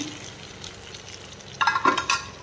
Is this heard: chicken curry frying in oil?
yes